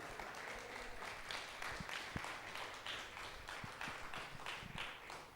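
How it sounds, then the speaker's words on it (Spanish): A church congregation gives a strong round of applause during a service, steady crowd clapping with scattered low thumps and taps underneath, fairly distant and quiet throughout. "Alguien dele un fuerte aplauso al Señor."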